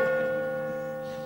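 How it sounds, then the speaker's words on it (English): A church bell at St. Nicholas's Church rings out one loud, sustained tone with a rich, humming resonance that slowly fades across the short moment. "This entire street shakes with the sound of that bell."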